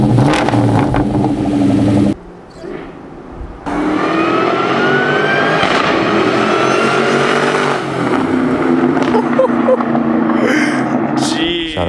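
A Ford Mustang Cobra's supercharged engine revs hard and loud, with a rising supercharger whine on top. The engine drops off briefly near the start, then builds again and holds steady to the end.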